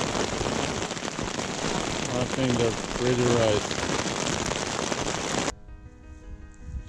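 Heavy rain pours steadily on a winter campsite in Norway, a dense continuous hiss that cuts off abruptly near the end, with a brief spoken remark partway through.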